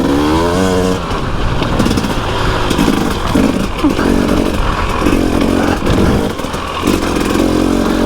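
A dirt motorcycle fitted with a new WP 45 Nm rear spring riding a green lane near Claerwen Dam in the Elan Valley, its engine loud and close throughout, revving and labouring with rattles and clatter.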